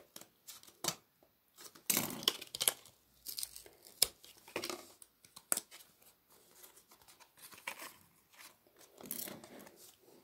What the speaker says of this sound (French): Je prends la mesure et après je coupe.